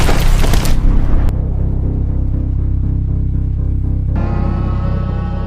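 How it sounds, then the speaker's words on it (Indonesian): A landmine detonates in the war film Sisu, blowing apart a horse: a heavy, loud blast with dense rumbling debris, a low sustained roar afterward, and a bright crackling burst near the end, with no talking. "seketika ranjau itu pun meledak dan menghancurkan kuda Atami"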